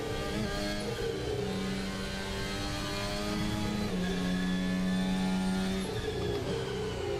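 Simulated F1 race car engine in a racing video game, winding down under engine braking, a steady loud harmonic drone that sags and shifts pitch as the car slows, with no voices over it.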